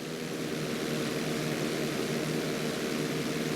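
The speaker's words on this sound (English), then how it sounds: "Okay, perform an inside loop." A propeller airplane in GTA V flight school drones through an inside loop, a steady buzzing engine tone held at constant loudness, close and alone.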